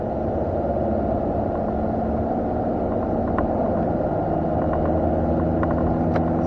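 A car engine drones steadily under load at around 2500 rpm while driving, the low rumble continuous and fairly loud, with a slight change in pitch as the clutch goes in and fourth gear is selected.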